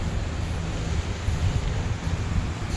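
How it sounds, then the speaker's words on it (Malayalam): Wind blowing steadily outdoors around a government hospital's grounds with date palms, a continuous broadband rush buffeting the microphone with slight surges throughout. "അതൊന്നാമത് ഈ കാറ്റുണ്ട് ഇവിടെ"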